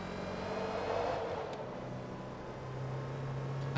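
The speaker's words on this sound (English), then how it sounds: "At lower revs, this car sounds like a Ford Transit van." In Forza Motorsport 2, a race car engine runs at low revs with a steady, droning hum that shifts slightly in pitch and holds at a constant moderate level, with no talking.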